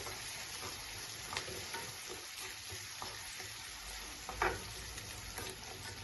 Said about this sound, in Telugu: కొంచెం దోరగా వేగనిద్దాం ఇంకా లైట్గా కొంచెం ఫ్రై అయితే ఇది